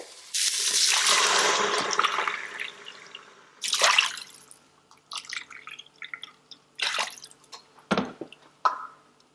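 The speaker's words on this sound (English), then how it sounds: "I'm going to add water into this." Water pours in a loud, splashing stream into an Instant Pot for a few seconds, then comes in shorter splashes and drips with clinks, close by.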